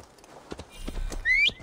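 Horse hooves in Assassin's Creed Valhalla, a few soft clip-clop steps building to a louder moment alongside a brief high whistle-like tone, with no talking.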